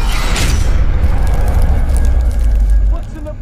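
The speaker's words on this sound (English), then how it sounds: "Explosion!" A heavy, booming explosion rumbles in the video game Insurgency: Sandstorm, loud and low, then fades over a few seconds.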